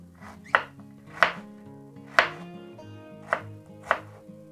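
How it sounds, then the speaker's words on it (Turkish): A knife chops peeled fresh ginger into small pieces on a board, five crisp, evenly spaced thuds heard clearly over a soft musical background, with no talking. "Kabuğunu soyup çok küçük parçalara doğradıktan sonra malzemeyi ekliyoruz."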